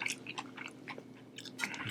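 Someone chews California roll sushi close to the mic, a quiet run of soft, moist bites and squishy chews in an irregular rhythm, with no crunch.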